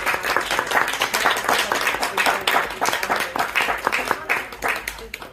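An audience at an author's book talk breaks into sustained applause, a dense, even patter of many hands clapping at moderate volume for several seconds, with a voice faintly heard beneath it.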